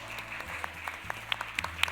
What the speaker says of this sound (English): Let's give Ross a big round of applause.